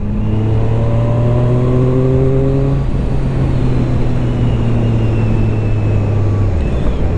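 A Zontes 703 RR motorcycle engine pulls steadily in a high gear without downshifting, a loud, close drone that rises gradually, dips briefly, then continues under heavy road and wind noise.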